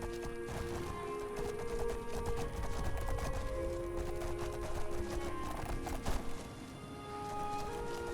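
Horse hooves clip-clop steadily with a neigh in Skyrim, a continuous game soundscape of trotting with music-like tonal layers underneath.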